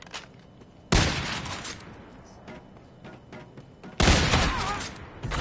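Gunfire in the shooter game Call of Duty: Infinite Warfare, two heavy, booming blasts a few seconds apart, each with a crackling tail, separated by quieter rattling game noise.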